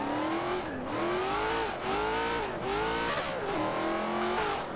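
An 1,800-horsepower Ford F-150 in the video game Forza Horizon 4 revs hard, its engine tone rising and dipping repeatedly in a loud, continuous, rhythmic surge of throttle blips, with no talking.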